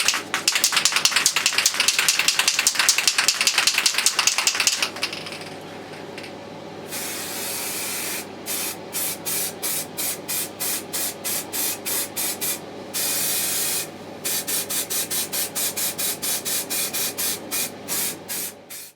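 Rattle-can spray paint hissing gold onto plastic cosplay body panels for an Iron Man Hulkbuster costume: a long continuous spray, then a series of short rhythmic bursts with brief gaps, close and loud.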